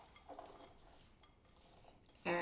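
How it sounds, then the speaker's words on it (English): A spoon stirs cinnamon through a Passover dish, making quiet scraping and light clinks against the pot, followed by a sudden loud clatter at the very end. "now we're going to stir it all up"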